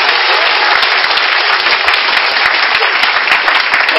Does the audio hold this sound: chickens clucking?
no